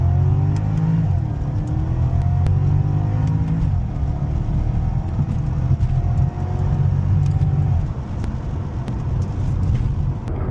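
A Porsche Panamera in Sport Plus mode pulls hard through the gears, its engine note climbing in repeated rising sweeps with short dips at each shift, loud and close from the cabin, with no talking.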